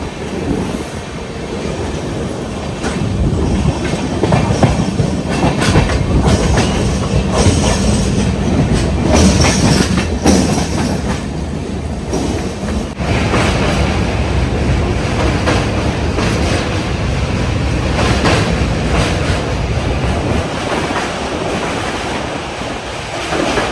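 The Kochuveli–Amritsar Express runs fast on rails with a loud, steady rumble and rhythmic clacking of wheels, close by and continuous, with occasional squeals.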